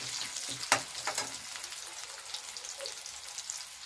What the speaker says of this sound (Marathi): कांदा एकदम परतून घ्यायचा आहे, नरम करून घ्यायचा आहे, गोल्डन ब्राऊन असा.